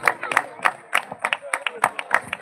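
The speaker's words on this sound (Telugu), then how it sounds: "చప్పట్లు గట్టిగా పిల్లలు" Children in the audience at a cultural festival prize-giving clap in quick, uneven bursts, sharp hand slaps repeating close by throughout, with a voice talking over them.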